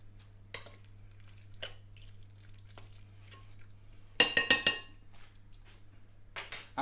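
Ingredients get mixed together in a bowl with a utensil, giving scattered soft scrapes and a quick burst of clinking strokes midway, under a low steady hum.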